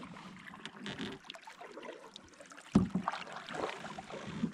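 Canoe on a river, with soft paddle splashes and water lapping against the hull, a sharper knock partway through, and light wind noise throughout.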